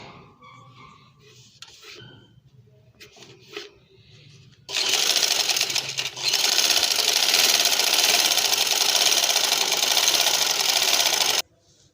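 A sewing machine runs a steady, loud burst of stitching along an angrakha garment for about seven seconds, after a quieter stretch of faint handling noises.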